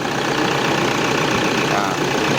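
A 2003 Toyota Tiger D4D diesel pickup truck idles steadily and low, running continuously with an even rumble and faint mechanical vibration, close by, without any revving.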